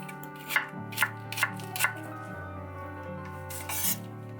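A knife slices an onion into thin, even strips for French onion soup, producing four crisp, evenly spaced chops on a cutting board and then a brief scraping burst, over steady background music.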